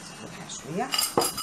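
A ladle scraping and clinking against a pot as flour and milk dough is mixed, a few quick metallic knocks close by.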